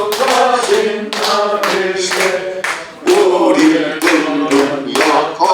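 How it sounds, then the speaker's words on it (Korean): A church congregation claps along in steady rhythm to a hymn during a pastors' seminar, loud and close, with sharp regular hand claps over singing. "박수 치고"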